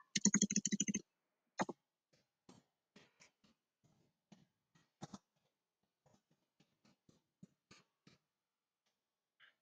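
Typing a message on a computer keyboard: a quick burst of clicks opens, then sparse, separate key taps, close and clear with no talking.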